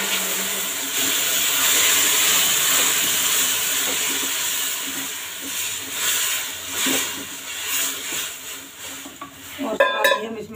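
Aloe vera goes into a hot pan with sugar for a halwa, setting off a loud steady hiss and sizzle that fades into softer frying with stirring clatter near the end.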